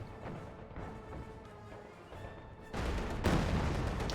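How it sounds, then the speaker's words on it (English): Field gun firing in Company of Heroes 2: a faint rumble of distant battle, then a sudden heavy blast that leaves a broad, noisy roar ringing out to the end, with no voices. "Field gun firing at the Schwerer Panzer quarters"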